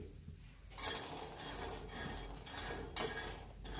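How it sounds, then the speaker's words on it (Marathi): Peanuts roasting in a pan on a gas stove, stirred with a utensil: close, continuous scraping and rattling of the nuts against the metal, with a sharper clatter near the end and no voices. "गॅस चालू करून घेतला तर आपण ते शेंगदाणे टाकून घेतोय आणि शेंगदाणे भाजून घ्यायचे चांगले"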